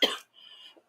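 A single sharp cough bursts out, followed by a brief raspy exhale and a small throaty sound.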